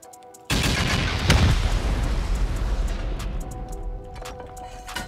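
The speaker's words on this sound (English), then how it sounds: "We'll finish this with rockets." Rockets fired at a base in a survival game: after a brief quiet moment a heavy blast erupts, followed by rumbling booms and scattered sharp cracks that slowly trail off.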